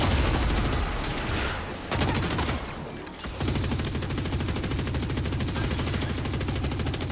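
Rapid gunfire from the shooter game Warframe, dense bursts of automatic fire going almost continuously, broken by a short lull near the middle, loud and close with no talking.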